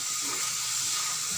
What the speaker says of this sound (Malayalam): ഇതൊന്ന് നല്ലതുപോലെ ഒന്ന് വഴന്ന് വരട്ടെ